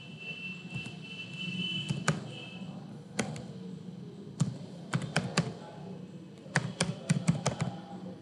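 Keys clatter on a computer keyboard as a device UID is entered into PC management software, irregular close taps in short bursts with pauses, alone and without talk.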